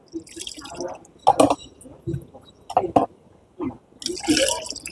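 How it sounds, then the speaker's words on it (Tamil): Water splashes and drips in short bursts as it is poured into a pot for Pongal, with clattering handling noises between pours. "இப்போ இந்த பானைக்கு வந்து நம்ம முக்கால் வந்து தண்ணி ஊற்றிக்கலாம்"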